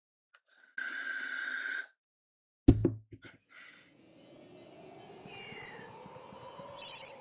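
A cat meows in a few short calls, followed by a sharp knock and softer breathy, drawn-out sounds, fairly close in an otherwise quiet room.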